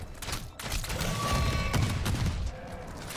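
A burst of close gunfire in a zombie shooter game, several rapid cracking shots packed together over a few seconds, loud and harsh with a short tail of rumble.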